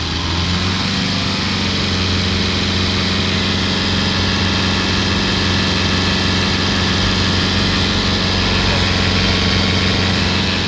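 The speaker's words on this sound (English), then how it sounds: "So now we'll hold the revs up." A Mitsubishi L200 Triton pickup's diesel engine held at raised revs during DPF checks, a steady droning hum with strong low tones that stays constant for the whole stretch.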